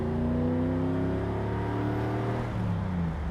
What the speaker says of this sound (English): You can hear the rumble of the engine out back